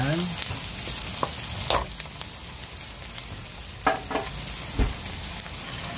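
Garlic and shrimp sauté in hot oil for miswa with patola, a steady close sizzle punctuated by several sharp utensil clinks and scrapes against the pan.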